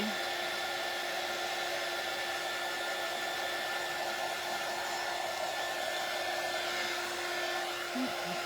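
A hair dryer blows continuously at close range, a loud, steady whirring hiss used to dry black paint on a vintage shutter, with no voices.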